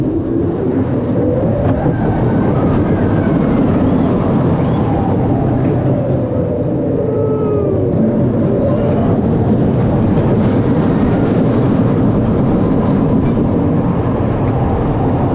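A roller coaster ride at Plopsaland De Panne in Belgium, heard as a continuous loud rumbling roar of wheels on track with wind noise, close and steady for the whole stretch, with no clear speech.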